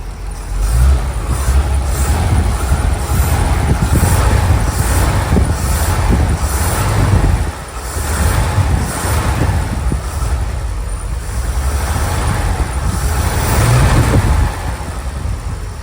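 A 1969 Chevrolet C30 truck engine runs steadily while driving, a loud, continuous low rumble with road noise, swelling slightly and dipping briefly midway, with no voices.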